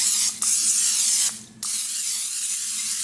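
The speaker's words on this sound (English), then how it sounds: "I'm just using my olive oil cooking spray" Olive oil cooking spray hissing from a can onto cake pans in two close bursts, a steady airy spray broken by a short pause and resuming, with no talk.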